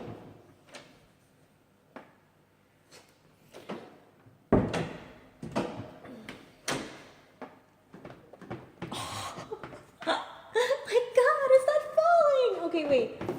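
A cabinet door is opened and closed repeatedly in a home being organized, giving a series of short knocks, bumps and clatters, near and fairly loud, with a few brief noises between them.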